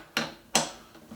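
A ratchet works 10mm bolts on a 2016 Kawasaki ER-6F motorcycle, giving two crisp close clicks followed by a fainter third, spaced evenly without talk.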